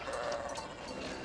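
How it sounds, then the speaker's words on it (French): Sheep bleat from a flock on a Pyrenees mountain pasture, steady and fairly close against a dense, continuous wash of outdoor noise. "on va traverser les moutons"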